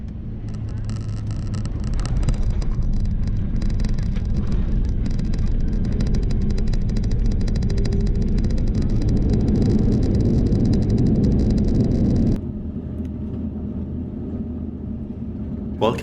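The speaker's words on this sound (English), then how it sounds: "so please enjoy the landing." Broadband rumble of a Lufthansa Airbus A350 landing at San Diego Airport, heard from inside the cabin: a steady loud roar that swells around touchdown, then drops abruptly to a quieter hum as the aircraft slows.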